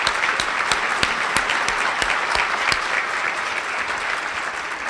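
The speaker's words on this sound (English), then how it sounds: "Let's give them a round of applause." An audience applauds steadily for five seconds, a dense wash of many hands clapping at even loudness, with no voices rising above it.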